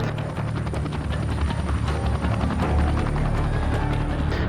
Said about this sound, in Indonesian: Terdengar suara helikopter untuk menolong.